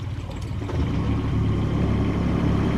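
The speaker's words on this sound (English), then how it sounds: "I love this little ferry." Engine of a small canal ferry boat rumbles as it comes in alongside, a low steady throb that swells slightly and settles into a close, continuous drone with no talk over it.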